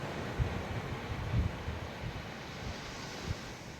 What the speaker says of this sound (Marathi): समुद्राच्या लाटात येतात आणि जातात